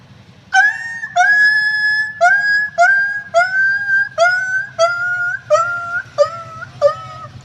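A voice imitates a dog hurt by a thrown stone, a series of about nine loud, close, whimpering howls, each rising and wavering, repeated in a steady rhythm.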